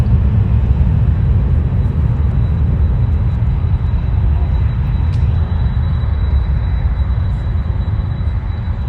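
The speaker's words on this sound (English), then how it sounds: "Now we have JetBlue Airbus A320." JetBlue Airbus A320 jet at LAX, a continuous loud low roar of jet engines filling the clip with a steady rumble and no talking.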